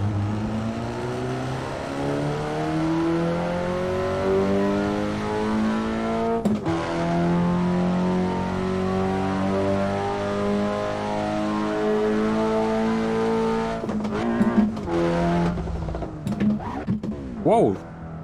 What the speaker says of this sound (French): Ouais, la voiture elle dérape aussi.